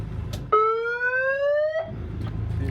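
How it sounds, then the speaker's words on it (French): A loud electronic shark-alert siren blares once for over a second during a night swim, a steady buzzing siren-like note, with quiet background noise before and after. "Attention, je mets la sirène."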